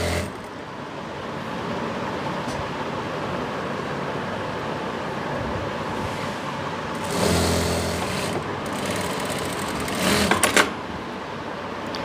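A sewing machine hums continuously while stitching palazzo pant seams, loud and close, with a brief change in pitch and a few rapid clicks toward the end.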